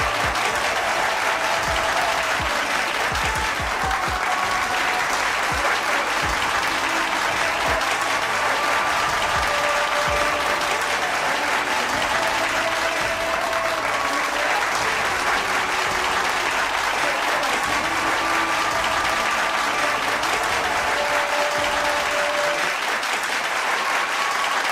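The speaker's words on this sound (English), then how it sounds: "A biggest round of applause for Hardik Pandya." Loud, sustained applause from a large audience at a wedding celebration, dense clapping and crowd noise filling the whole stretch without letting up.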